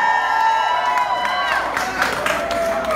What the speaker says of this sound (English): the reason why this screaming, and I understand your reaction, is that it excites you